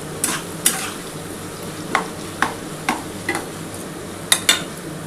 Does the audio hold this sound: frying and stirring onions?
yes